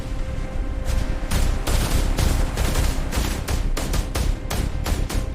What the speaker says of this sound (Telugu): అడవిలో దాగి ఉన్న ఉగ్రవాదులు తీవ్రంగా కాల్పులు ప్రారంభించారు